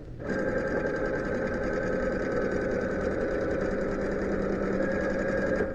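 A sewing machine stitches quilt pieces together in one steady, continuous run of fast, even whirring close by, with no voices over it.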